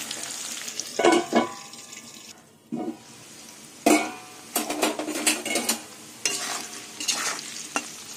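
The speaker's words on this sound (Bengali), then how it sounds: "এবার নুন দিয়ে আলুটা ঢেকে ঢেকে ভেজে নেব" Potatoes frying with salt in a covered pan over low gas, a steady sizzle broken by several bursts of stirring and scraping against the pan, with no voices.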